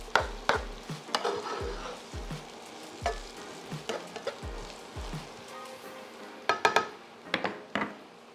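A vegan ackee mixture with scotch bonnet pepper being stirred in a pan: repeated dull knocks and scrapes of the spoon over a low sizzle, then a quick burst of sharper clatters near the end.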